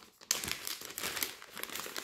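A scratch card is scraped, giving a soft dry crinkly rasp of short scratching strokes, close up and fairly quiet.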